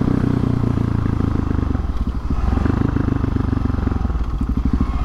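A Husqvarna 701 supermoto single-cylinder engine runs loud and close, thumping and pulsing steadily, with a brief dip in revs around a gear change before it pulls again.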